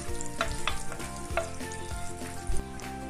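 Onion hitting a pan of browned garlic, frying with a steady sizzle under a busy, tonal background, with a few sharp utensil knocks and stirring scrapes recurring throughout.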